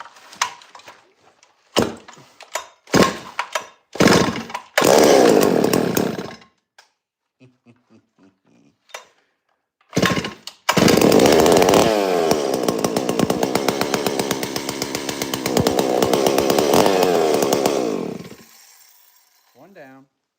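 A small Stihl-clone chainsaw fitted with a modified intake revs up in several short blips, then holds a loud, steady high-pitched roar for several seconds before cutting off, with brief speech between the blips.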